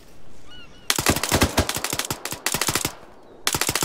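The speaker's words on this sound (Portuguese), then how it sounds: "Tiro dentro dessa casa aqui, ó." Automatic gunfire in the video game Arma 3 rattles out in loud, close bursts of rapid shots, broken by short pauses between volleys.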